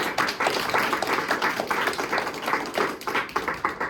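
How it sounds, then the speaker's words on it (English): An audience at a speech contest applauds, a steady patter of many hands clapping together, fairly close and sustained across the whole moment. "Again, a big hand for them."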